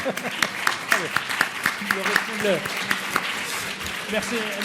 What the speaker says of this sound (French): on applaudit en reconnaissance à tous les bénévoles